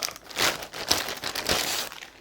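Clear plastic wrap around an MSI MPG A850G power supply crinkles and rustles in a few close bursts, a crisp, papery crackle that rises and falls over a couple of seconds.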